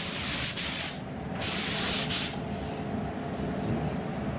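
A spray gun applies lacquer to a Lambretta GP scooter side panel, producing two loud, close hissing bursts followed by a softer steady hiss.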